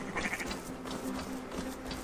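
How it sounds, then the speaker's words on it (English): Sheep in the video game Assassin's Creed Valhalla bleat in a short wavering cry near the start, set against a busy ambient game soundscape with faint background murmur. "And the sheep are actually following us"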